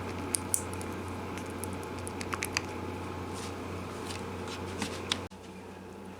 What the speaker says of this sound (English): now I'm going to stir it for 1 minute